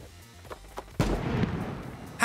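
Sniper rifle shot in the Battle Prime video game, a single loud booming report with a rolling tail, followed by another sharp burst right at the end.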